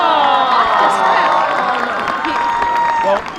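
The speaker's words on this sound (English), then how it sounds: "We've got cheers from all around the room." A crowd at a fencing match cheers loudly and steadily, with many overlapping shouting voices sustained for a few seconds before dropping off at the end.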